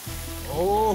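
Rabbit meat sizzles and fries in a pan during outdoor cooking, a steady close crackle that swells louder partway through, with a rising tonal whine over the top.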